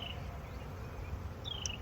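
Honey bees buzz around an open hive during an early-summer inspection, a faint, steady hum close by with no talking.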